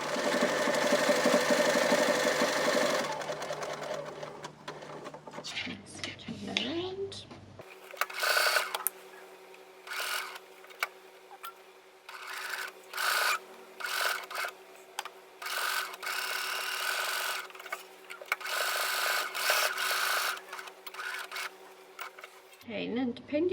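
A sewing machine stitches along a fabric book cover with designer thread in top and bobbin, running in bursts of rapid, steady mechanical whirring broken by short pauses, fairly close and loud, with no talking.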